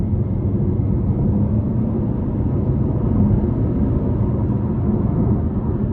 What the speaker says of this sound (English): I'm gonna give it a little throttle here.